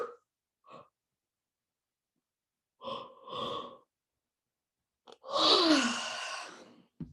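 A few short, soft breath sounds come first, followed by one long, audible breath in and out during a guided calming session, a close, airy sigh-like whoosh near the end.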